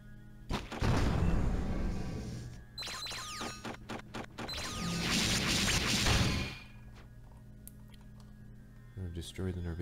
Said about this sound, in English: I've destroyed the Norvidian pillar and it has opened the eastern bulkhead